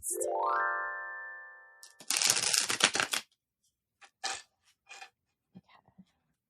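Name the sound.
shuffling tarot cards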